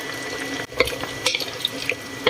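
Water pours from a tap into a cooking pot for a peppery blackpepper chicken dish, a short close splashing run with small clinks and drips.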